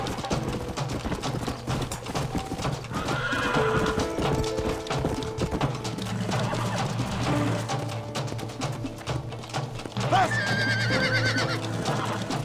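Horse hooves clip-clopping and a horse neighing in the Red Dead Redemption video game, layered over continuous game music and ambient sound, with a loud whinny rising near the end.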